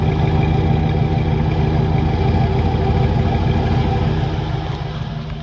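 A Ford F-150 pickup with a custom exhaust idles with a deep, steady rumble, loud and close, with a throbbing low exhaust note that eases slightly toward the end.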